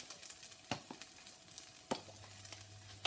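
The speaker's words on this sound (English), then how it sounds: "So that's been frying for a few minutes, the bacon." Bacon fries in a pan with a soft, steady sizzle at low volume, broken by a few sharp clicks of a utensil stirring.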